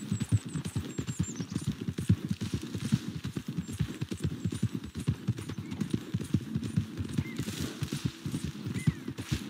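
Hooves of a liver chestnut Morgan horse clip-clop at a steady riding rhythm in the Red Dead Redemption 2 video game, close and continuous, with a brief whinny and faint ambient background.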